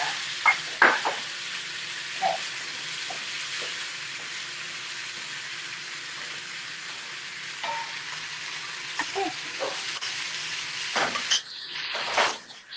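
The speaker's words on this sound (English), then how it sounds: "So we're just looking to kind of cook down the zucchini like a little bit" Zucchini cooking down in a pan with shallots and onions for pasta with zucchini and feta, a steady moderate sizzle with occasional utensil clicks and stirring bursts toward the end.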